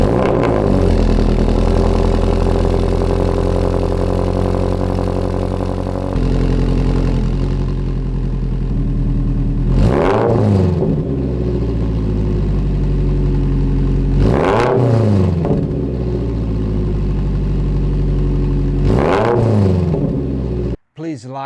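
Toyota GR86 fitted with a UEL header, front pipe, overpipe and AWE Touring exhaust, idling loudly and then blipped in three sharp, close revs spaced a few seconds apart before cutting off abruptly.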